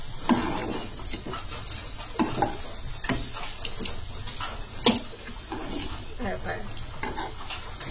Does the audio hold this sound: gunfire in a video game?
no